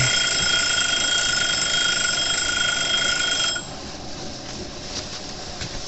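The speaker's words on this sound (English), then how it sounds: "The timer has gone off and it's time to remove the jars." A kitchen timer alarm rings in a steady, high electronic tone for about three and a half seconds, then cuts off, leaving quiet room noise. The setting is water bath canning and lacto-fermenting jalapeños.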